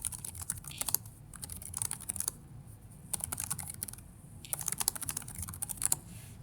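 Close, quick bursts of typing on a computer keyboard rattle along in uneven runs with brief pauses between, over a faint room hum and without any talking.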